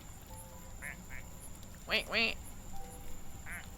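A cartoon fireman duck in a video game gives a pair of bright, close quacks, with a few fainter quacky blips around them and people talking over the game sounds.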